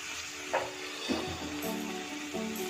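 Spices sizzle and fry in a pan for palak paneer as dried fenugreek leaves go in, a steady close hiss with a few soft stirring scrapes and no talking.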